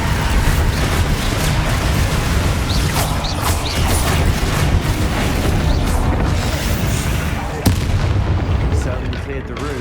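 A Bombarda blasting spell explodes during spell combat in Hogwarts Legacy. Booming, crackling blasts and mechanical clatter fill a dense, loud game soundscape, with one sharp impact standing out near the end.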